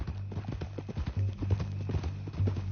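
Horse hooves clip-clop at a steady walking rhythm in the Red Dead video game, crisp close hoofbeats with a low rumble underneath.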